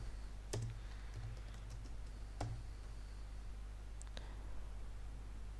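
Code is typed on a computer keyboard in a quiet room, with sparse, faint keystroke clicks spaced irregularly over a low steady hum, without any speech.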